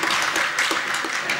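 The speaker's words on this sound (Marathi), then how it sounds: "या ज्या टाळ्या वाजतायत ना त्या बहुतेक अनुभवाच्या असायत" Applause from an audience at a Marathi speaking event, steady dense clapping filling the short moment without speech.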